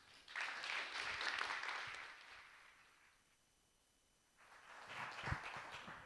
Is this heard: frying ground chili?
no